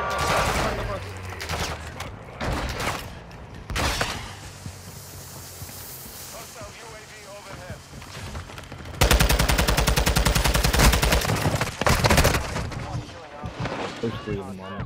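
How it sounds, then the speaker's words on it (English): Dense automatic gunfire and scattered shots in a Call of Duty DMZ firefight, loud bursts under the clatter of other game noise, with a heavy sustained volley later on and a radio-style voice heard over the fighting. "You are taking effective fire."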